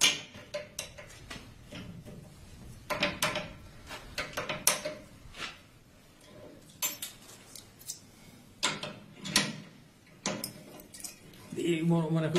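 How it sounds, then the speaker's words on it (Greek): Metal keys jangle and click in irregular clusters of sharp ticks as monastery doors are opened and closed, fairly quiet and close, with a short murmur of voice near the end. "Και οι ήχοι από τα κλειδιά με τα οποία ανοίγει και κλείνει τις πόρτες."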